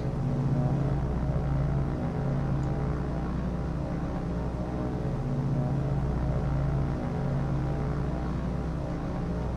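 Propeller bombers drone overhead in the naval battle game World of Warships, a steady low rumbling hum that holds evenly for several seconds with no voices over it.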